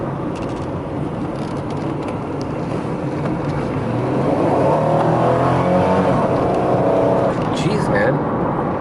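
Pontiac Firebird T-top engine driving, heard through a rolled-down window, a steady rumbling drone mixed with road and wind noise that swells louder as the car accelerates midway.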